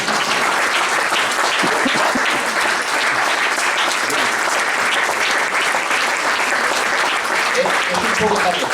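An audience claps after a talk on handball history, a steady, dense burst of applause lasting several seconds.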